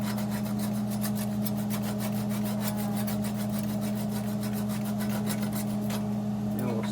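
Hand scuffing paint off the metal of a mini trike build, with rapid, rhythmic rasping strokes close by over a steady low hum.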